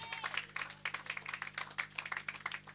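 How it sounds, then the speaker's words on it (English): Scattered, fairly quiet clapping from a small crowd at a community Wi-Fi launch event, a patter of individual hand claps rising and falling irregularly across a few seconds, heard at a distance. "give her another big round of applause"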